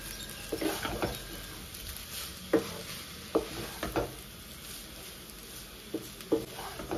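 Maggi noodles with spice mix and tomato sauce being stirred in a pan, soft sizzling underneath repeated clinks and scrapes of a utensil at irregular intervals, close and fairly quiet.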